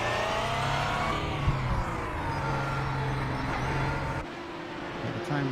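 Race cars, among them Audi R18 prototypes, accelerate at Watkins Glen during an endurance race in a sim racing game. Several engines drone and whir together at a steady, loud level as the pack gathers speed, with no speech.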